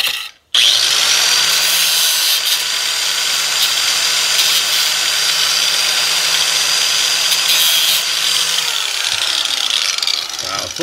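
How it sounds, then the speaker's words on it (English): A grinder cuts into a door hinge on a 2006–2013 Chevy Impala, a loud, continuous high-pitched whine with hissing cutting noise that runs steadily for about nine seconds after a brief pause. "Got my grinder ready."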